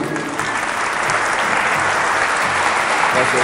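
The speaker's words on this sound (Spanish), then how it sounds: "Quiero que le demos un aplauso" A church conference audience applauds the priest, a dense, loud, continuous wash of many hands clapping together, steady throughout without any voice rising above it.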